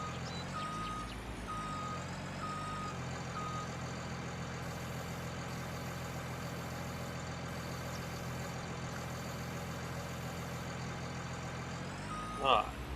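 A truck in Farming Simulator 19 gives a few evenly spaced reversing beeps over a steady idling diesel engine, followed by a long engine drone, faint and heard from nearby with a voice.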